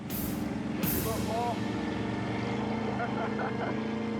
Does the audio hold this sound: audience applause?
no